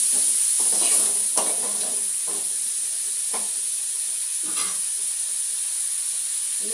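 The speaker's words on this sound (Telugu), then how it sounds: "ఇది కొంచెం మగ్గాలండి టమాటా." Chopped tomatoes sizzle in a hot pan for a vegetable pachadi, with a steady hiss of frying and several scraping stirs of a spoon at irregular intervals, close and clear.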